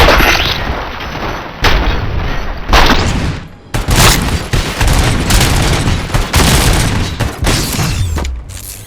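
Loud, close gunfire from RoboCop: Rogue City: repeated booming shots and rapid bursts tumble over one another for several seconds, with brief lulls between volleys and no talking on top.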